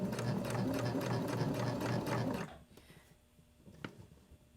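A sewing machine stitches polar fleece in a rapid, loud, close mechanical run that stops partway through, followed by quiet handling and a single small clack.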